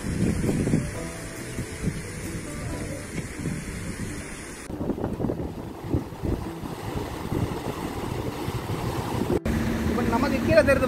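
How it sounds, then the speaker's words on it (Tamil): Strong river water surges through the Nandan canal sluice near a check dam on the Thurinjalaru, a steady loud rushing with wind buffeting the microphone throughout. "தண்ணி வந்து இப்போ ஆற்றுல செமையாக போயிட்டுருக்கு, ரொம்ப வழிஞ்சு ஓடிட்டுருக்கு"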